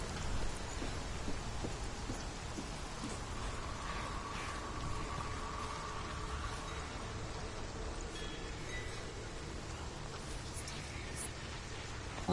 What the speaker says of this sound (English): It's getting more rainy.